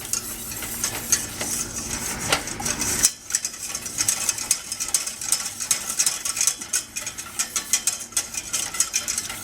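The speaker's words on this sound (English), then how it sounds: "Just give it a whisk" A whisk stirring cream sauce in a hot pan, a continuous quick scraping and clicking rhythm over a soft sizzle, close and fairly quiet.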